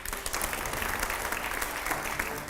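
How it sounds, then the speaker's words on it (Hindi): A studio audience at a televised political interview applauds in a dense, continuous burst of many hands clapping, steady and even throughout, heard from a moderate distance. "जोरदार तालियां जरा"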